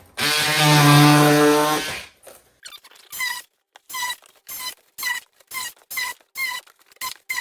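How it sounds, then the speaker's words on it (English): A box cutter slices cardboard into smaller pieces for shredding. One long, loud squealing screech is followed by a rhythmic series of shorter scraping squeaks, each cut separated by brief pauses. "I do have one of these box cutters, which is nice when you have a bunch and you want to cut it into smaller pieces"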